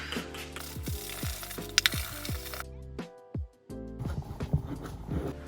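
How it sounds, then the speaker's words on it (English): A spray bottle of isopropyl alcohol mists steadily in a nail studio during cleaning, a sustained hissing burst followed by light plastic clicks and taps of the trigger and bottle. "So let's just give this a good spray."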